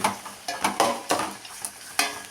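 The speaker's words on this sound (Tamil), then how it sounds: "வெங்காயம் நல்லா வணங்கிக்கிட்டே இருக்குது" Onions sauté for chicken gravy, with a spatula stirring and scraping the pan in irregular bursts over a soft, steady sizzle.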